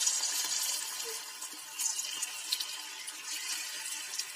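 Potato pakoda batter is pinched into hot oil and fries with a steady, close hiss and sizzle. Faint bubbling crackles rise and fall throughout.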